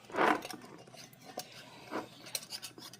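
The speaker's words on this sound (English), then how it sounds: "Put the lid on." A lid goes onto a glass jar of homemade sweet relish: a loud scraping clink at the start, then scattered lighter taps and rasps of metal on glass, close by with no talking.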